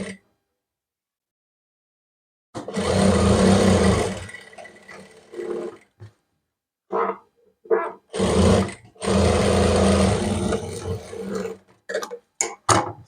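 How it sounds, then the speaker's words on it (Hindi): A sewing machine stitches an umbrella frock in loud, close bursts of whirring, several runs of a second or two separated by silent pauses and short stops, with no speech. "अब हम इस पे सिलाई लगा देंगे।"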